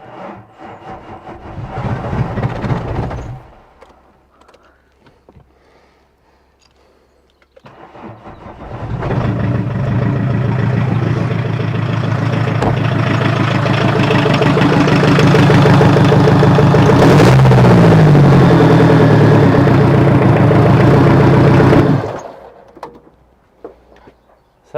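Mk2 VW Golf diesel engine running rough, heard in two bursts: a short run that dies away, then a long, loud, steady clattering run with a brief rise in revs before it cuts off abruptly.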